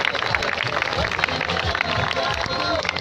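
A school audience claps during an Eid Milad un Nabi ceremony at Govt Islamia High School, making a dense, continuous wash of clapping and crowd noise with a few voices mixed in.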